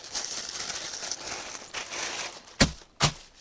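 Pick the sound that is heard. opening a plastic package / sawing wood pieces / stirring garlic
opening a plastic package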